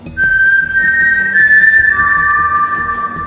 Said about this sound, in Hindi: एक सुनसान भयानक सीटी जो हवा के साथ बह रही थी